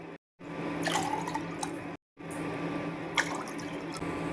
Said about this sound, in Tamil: இந்த டம்ளருக்கு 3 டம்ளர் தண்ணி ஊற்றிக்கலாம்.